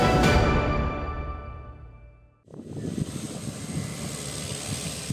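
A Caravan propeller aircraft carrying the Puncak regent's party drones loudly, its engine fading away, then a steady rumbling engine noise returns close by.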